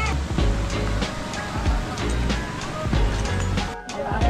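Rushing water at Talon Pari waterfall in DRT, Bulacan, a steady broadband roar close by with a few brief bumps and handling noises, and faint voices now and then.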